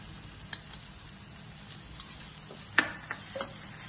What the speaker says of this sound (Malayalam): ഇനി വീണ്ടും നന്നായി ഇളക്കിയിട്ട് ആ തക്കാളി നന്നായി ഉറഞ്ഞു ചേരണം